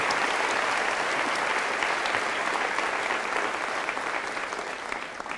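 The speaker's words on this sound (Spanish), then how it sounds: "Fuertes aplausos al Señor por su amor y su misericordia" A Catholic church congregation bursts into steady, dense applause that fills the room evenly and stays loud throughout before tapering slightly at the close.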